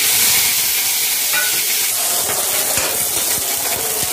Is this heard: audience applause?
no